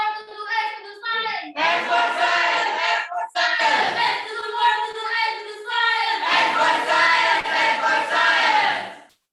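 A high school class in Batam shouts its group chant in unison, loud bursts of massed young voices with brief pauses between phrases, close and energetic.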